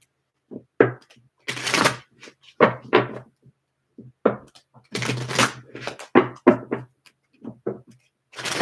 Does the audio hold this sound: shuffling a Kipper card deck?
yes